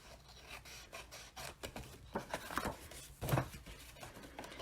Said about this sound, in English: Now I'm just going to trim all 4 of these sides.